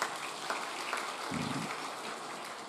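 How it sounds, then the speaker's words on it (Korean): Church congregation applauding to welcome newly registered members at a Sunday service, a steady, moderately quiet wash of clapping across the room with a brief low rumble partway through. "박수 한번 해주시죠"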